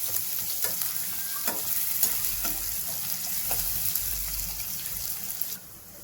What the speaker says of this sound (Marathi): त्याच्यानंतर मी 2 छोटे कांदे जे बारीक चिरलेले होते ते टाकले आहे. तेही व्यवस्थित तेलात परतून घेते.